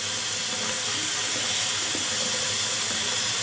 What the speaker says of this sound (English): I am still gonna wet my face a little bit